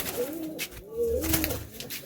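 Malwai and Madrasi pigeons in a loft coo close by, with several rolling, repeated calls over a busy background of shuffling and movement.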